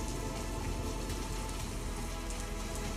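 Heavy rain pours steadily over Delhi, a dense, continuous broadband hiss of water hitting surfaces, loud and unbroken throughout with no voices.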